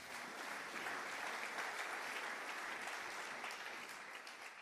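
A church congregation applauds together during a French-language sermon, a dense, steady wash of many hands clapping that holds evenly for several seconds and fades slightly at the end, with no voices over it.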